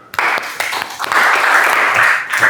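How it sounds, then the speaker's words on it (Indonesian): A group of students in a boarding-school setting claps in short bursts, close and loud, with choppy starts and stops before settling into sustained applause. "Boleh tepuk tangan?"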